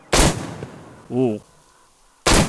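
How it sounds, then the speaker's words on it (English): A revolver fires in the video game Metro Exodus, two sharp broadband blasts at the start and end framing a short burst of voiced sound in between. "Revolver sounded pretty mean right now."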